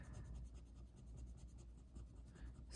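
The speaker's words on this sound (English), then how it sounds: "let me erase this" Eraser rubbing out writing on paper, a faint, quick scratchy scrubbing in repeated short strokes.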